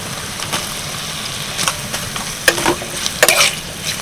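Onion, capsicum, carrot and green chilli stir-fried in oil for rice-flour chow mein: a steady close sizzle broken by irregular scraping stirs and a few sharper clatters, with no talking.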